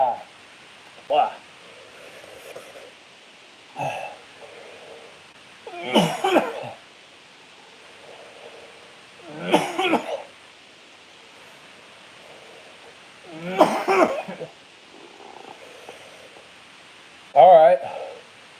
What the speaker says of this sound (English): Getting that coffee cough on.